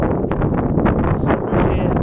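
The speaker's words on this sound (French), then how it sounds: "Avec un peu le vent de face." Wind buffeting a microphone on a sandy coastal trail on Île d'Yeu during a run, a steady loud broadband rush that stays constant throughout without gusting pauses.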